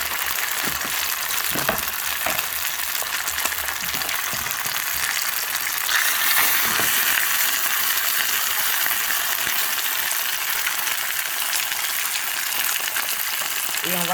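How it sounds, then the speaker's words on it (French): Fish (mâchoiron) hits hot olive oil in a pan, raising a loud, continuous frying sizzle that holds steady throughout, with a brief swell partway through. "L'huile là assez chaude, je viens renverser mon poisson à l'intérieur."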